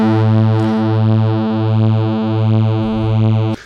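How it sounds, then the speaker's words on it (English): A Dave Smith Pro 2 analog synthesizer plays a loud, sustained, buzzy tone with added distortion, held as a few steady repeated notes before it stops abruptly. "We can also add distortion to this sound, but we need to be very delicate with it"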